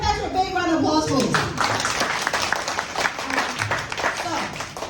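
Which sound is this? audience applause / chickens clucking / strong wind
audience applause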